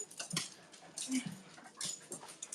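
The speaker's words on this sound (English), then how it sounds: "I have my puppy here. Let me show you my puppy." A small puppy whimpers and yips in short, soft bursts, close by and fairly quiet, with faint rustling between the cries.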